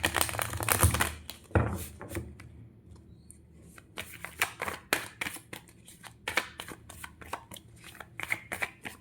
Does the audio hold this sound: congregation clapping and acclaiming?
no